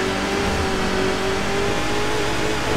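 An off-road racing vehicle engine in Baja: Edge of Control hums at a steady, sustained mid pitch with a constant whir, loud and unbroken throughout with no talk.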